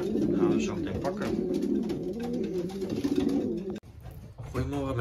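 Racing pigeons coo continuously in a loft, a throaty rolling murmur of several birds close by, broken briefly by a clunk near the end.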